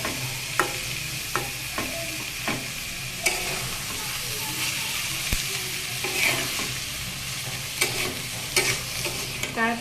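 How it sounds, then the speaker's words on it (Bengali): Leafy greens fry steadily in oil in a pan while a spatula stirs them now and then, a continuous close sizzle broken by brief scraping strokes. "দেখুন শাকটাকে কিন্তু আমি একটু পরপরই নেড়ে চেড়ে দিচ্ছি"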